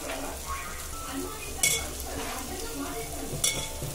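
Green chillies and curry leaves fry in a pan for an egg curry, a steady sizzle broken by stirring scrapes and two sharp utensil clinks against the pan.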